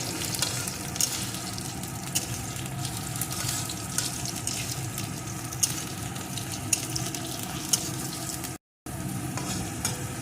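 Sweet potato fries in a pan as part of a drumstick-flower dish, a dense, steady sizzle with occasional pops and stirring scrapes running throughout, close and even, with a brief cut of silence near the end and no talk.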